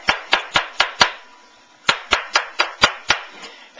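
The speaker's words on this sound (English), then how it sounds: "So I'm going to cut this up real quick." A kitchen knife chopping food on a cutting board: five quick, crisp chops, a short pause, then another run of about seven evenly spaced, sharp knocks, close and dry.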